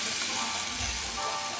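Mắm ruốc, a Vietnamese fermented shrimp paste, sizzles loudly in a hot pan, a steady dense crackle with no pauses.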